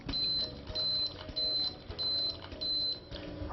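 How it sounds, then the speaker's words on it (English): A Cup-O-Matic coffee maker signals the end of brewing with five evenly spaced, high electronic beeps, moderately faint over a low background hum. "When it's finished brewing, the Cup-O-Matic will beep 5 times."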